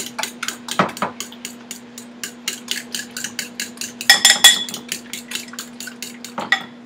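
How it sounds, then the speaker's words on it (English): Ingredients being whisked in a bowl, a fast series of light clinks and scrapes of the whisk against the bowl, close and steady, with a couple of louder knocks and no talking. "I'm just going to whisk that again."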